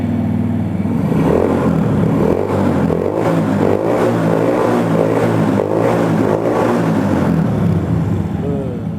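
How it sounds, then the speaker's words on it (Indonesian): A custom Honda Super Cub-style streetcub motorcycle engine idles loudly up close, then is revved in several throaty surges before settling back, continuous and dominant throughout. "Coba kita geber-geber dikit ya."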